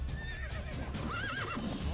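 A horse neighs in The Witcher 3: Wild Hunt, a clear, wavering whinny in the foreground with game background sound beneath it.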